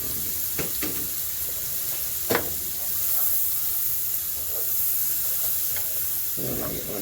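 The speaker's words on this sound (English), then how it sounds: "Put the butter in there. Get the onions in there." Onions sizzle in melted butter in a pan for beef stroganoff, a steady close frying hiss with a few sharp stirring clicks and scrapes.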